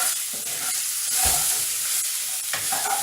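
Onion, chili and ginger garlic paste stirred in a pan, giving a soft sizzle with scraping strokes of the spoon at a moderate level, with no talking.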